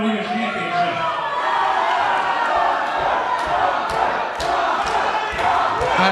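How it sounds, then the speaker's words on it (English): A dense crowd at an RWA wrestling show cheers for the wrestler Bronco, a steady roar of shouting and whooping with scattered sharp yells that holds throughout. "The crowd is cheering for Bronco."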